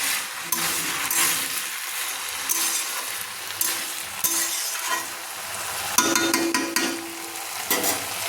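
Malabar spinach with five or six slit green chillies is stirred in a hot pan for a Bengali fish-head dish, a loud steady sizzle broken by repeated scraping strokes of the spatula.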